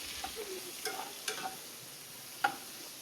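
Onions fry faintly in ghee for a chicken curry, a quiet low sizzle broken by a few sparse clinks and taps of a stirring utensil.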